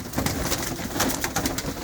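Pigeons coo continuously in a dense, pulsing murmur, several birds close together, with no talking over them.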